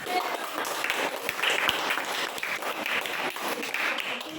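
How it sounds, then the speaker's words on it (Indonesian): Classroom applause at an Indonesian primary school science lesson, a steady patter of many hands clapping continuously at moderate volume, with a few voices mixed in. "ya, berikan aplaus."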